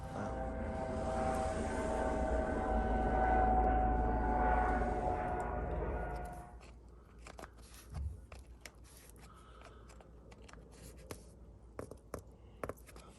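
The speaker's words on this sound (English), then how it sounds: "Is that my helicopter in the background?" A helicopter engine drones steadily in the background for several seconds, then fades out, leaving quiet scratching and small handling noises.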